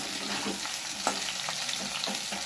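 Okra sautéing in a pan for a vendaikkai gravy, a steady close frying sizzle with soft stirring scrapes and a few light clicks, no talking.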